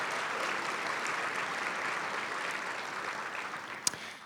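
A large audience at an education showcase event applauds recognized students, steady, full clapping filling the room for several seconds, with one sharp louder clap near the end as it starts to fade.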